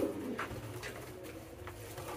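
Cooing of a female pigeon, soft low repeated coos at close range with faint background noise between calls.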